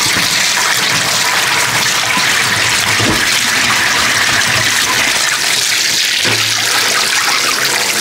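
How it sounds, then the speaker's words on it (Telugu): Water left over from washing rice is poured onto large plants in a steady, close gushing stream with no voices. "ఇటు పెద్ద మొక్కలు ఉన్నాయి, దాంట్లో పోసేస్తాను అనమాట"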